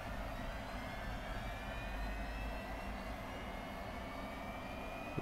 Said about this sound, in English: We can see now that the engine is booming up.